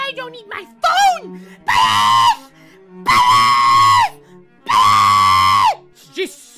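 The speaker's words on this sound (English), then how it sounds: "Just stop screaming!" A person screaming in three long, loud, sustained bursts separated by short gaps, close and harsh, with brief vocal noises between the screams.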